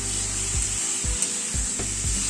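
Three chopped, deseeded tomatoes sizzle in a pan with garam masala and spices, a steady hot hiss broken by rhythmic scraping strokes of a spatula roughly every half second.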